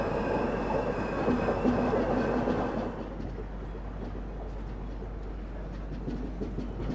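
Ahmedabad Gorakhpur Express running on the line near Bhopal, a loud steady rumble of wheels and carriages, easing slightly partway through.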